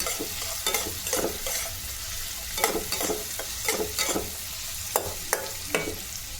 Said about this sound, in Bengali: আর এর মধ্যে কিশমিশ আর কাজু বাদামটাও দিয়ে দিলাম, এটাও একসঙ্গে এর সঙ্গেই একটু নেড়ে নিই